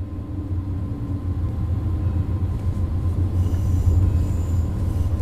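A Siemens third-generation Intercity Express train built in Germany for international service rolls past near the Dutch and Belgian border, a steady loud rumble of wheels and carriages that builds slightly over several seconds with a faint squeal.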